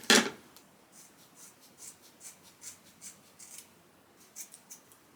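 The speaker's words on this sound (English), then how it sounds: "Just gonna cut a little bit off here." Scissors snip through a blonde synthetic Sensationnel Latisha wig being cut into a bob: a handful of soft, crisp snips in a loose rhythm, close and quiet, following a brief louder rustle at the start.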